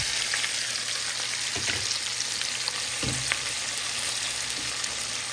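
Fish fries in hot oil alongside onions and green chillies, a dense steady sizzle close up, with a couple of soft stirring knocks partway through.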